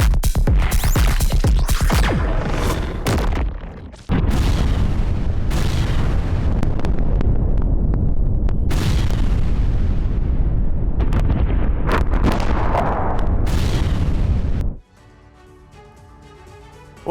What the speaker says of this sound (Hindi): धमाके के बाद आसमान में उठा आग और धुएं का गुबार।